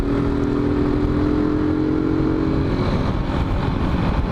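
A Benelli TNT 15 motorcycle on a test ride holds a steady, close engine drone with a constant tone and slight fluctuations, alone without any talk.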